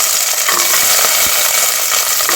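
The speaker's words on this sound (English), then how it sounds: "So now while frying the onion, I'm also adding the cinnamon stick." Onions and garlic frying in peanut oil in a pan, a loud, steady, close sizzle that carries on without a break, with faint stirring clatter underneath.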